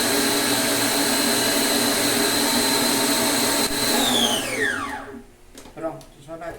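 Electric mixer steadily whirring as it beats chocolate cake batter, a loud continuous motor drone that winds down and stops near the end, leaving faint clatter.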